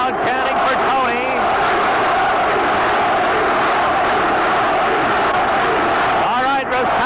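Hockey crowd at a 1982 Chicago Blackhawks versus St. Louis Blues playoff game 6 chanting for Tony, a loud, steady arena roar filling the whole span, with a commentator talking over it.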